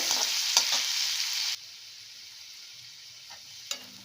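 Pineapple pieces sauté in ghee for kesari, a loud sizzle with a couple of spoon knocks that drops abruptly to a faint low simmer, a late clink near the end, no voices.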